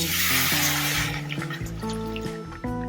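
About 200 ml of water pours into a cooking pot of pumpkin curry in a short, splashy rush over background music, then the music carries on alone.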